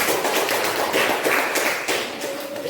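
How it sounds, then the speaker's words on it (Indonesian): A school class claps hands together in a dense, steady burst of applause, loud and close, filling the whole stretch before tapering slightly near the end. "Mari kita tepuk tangan untuk kita semua"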